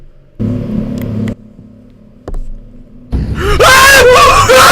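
Someone shrieks loudly at close range, a high wavering scream that bursts in near the end after a few short bursts of heavy noise, recorded during a live stream in a forest.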